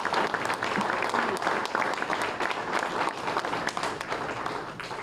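Banquet audience at an American Legion awards dinner applauding, a steady wash of many hands clapping at moderate distance, sustained for several seconds without a break.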